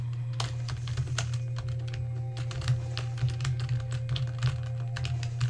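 Rapid clicking of computer keyboard keys during a game run, steady and close, with a constant low hum underneath and no talking.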